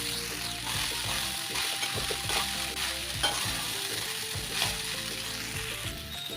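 Leftover rice sizzles in a hot frying pan for lemon rice while a spoon stirs it steadily, giving a continuous frying hiss with scraping and clinking strokes.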